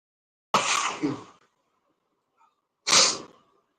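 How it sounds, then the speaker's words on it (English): Two sharp sneezes, the first with a quick double burst, then a pause of over a second before the second; close and loud in quiet surroundings. "So much sneezing."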